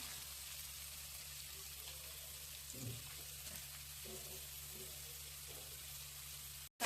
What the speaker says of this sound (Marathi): लसूण हे टाकतोय तेलात आणि चांगलं परतून घेऊया आता आपण त्याच्यात कांदा टाकतोय